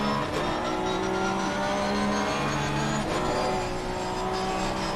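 GT3 race cars in Assetto Corsa Competizione at Zolder driving through standing water on a wet track, several engines droning and shifting steadily at close range with a faint watery hiss, no voices.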